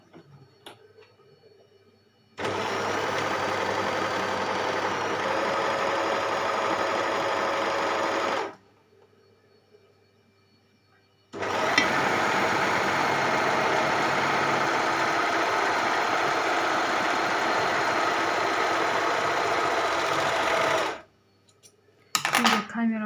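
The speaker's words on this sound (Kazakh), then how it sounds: "Енді тігіп көрейік." Overlock sewing machine stitching a rolled hem, running loud and close in two long bursts with a pause between, its rapid mechanical whir steady, then a brief restart at the end.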